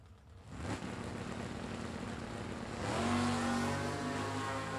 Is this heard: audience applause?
no